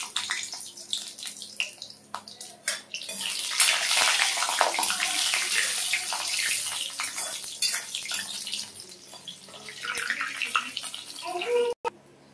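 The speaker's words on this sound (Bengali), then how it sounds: "আগে বড়িগুলো ভেজে নেব" Bori lentil dumplings frying in hot oil in a heated wok, a steady loud sizzle with splashy bursts that swells midway and crackles on throughout, no talk heard.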